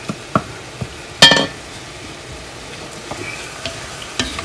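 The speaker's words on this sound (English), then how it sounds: "So I'm going to keep stirring it." Gumbo cooks with vinegar in a pot on the stove, a soft steady sizzle broken by a few scraping stirs and sharp clinks of a utensil against the pot, close and without talking.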